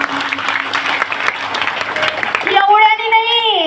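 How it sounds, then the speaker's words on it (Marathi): Loud, dense applause from an audience at a Shiv Purana storytelling gathering, sustained for over two seconds, then cutting off as a steady melodic tone begins. "चला सर्वांनी एकदा जोरदार यांच्यासाठी टाळ्या वाजवा."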